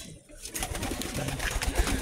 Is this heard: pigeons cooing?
yes